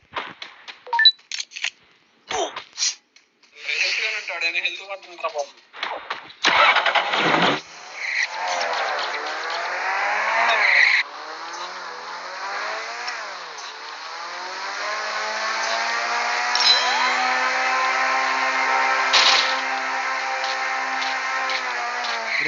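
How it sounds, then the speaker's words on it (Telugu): A car engine in the Free Fire mobile battle game starts up and revs, with short bursts giving way to a steady droning drive, loud and close, alongside scattered game effects. "జోనతన్ కారు పట్టుకోరా."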